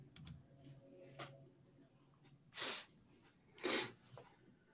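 A close, quiet sniffle: two short, sharp nasal sniffs about a second apart, with a few faint clicks and breathy rustles in an otherwise hushed room and no talk.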